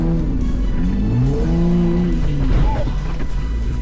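Race car in a C-class auto race accelerating hard, the engine note climbing and shifting in a loud, continuous close roar with some rising whine.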